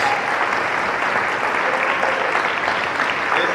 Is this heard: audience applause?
yes